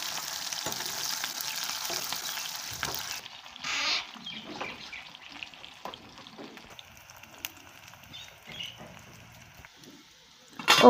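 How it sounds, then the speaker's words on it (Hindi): Onions frying in oil in a kadhai make a low, fairly faint sizzle, with scattered scraping and stirring clatter, a brief hiss early on and a louder clatter at the very end. "अब मैं इसमें प्याज फ्राई करूँगी।"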